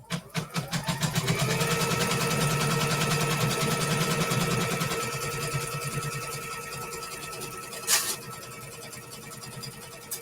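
Sewing machine stitching down quilt fabric for a quarter square triangle block: a rapid steady mechanical needle rattle, close and continuous, slowing and fading in the second half, with a brief clack near the end.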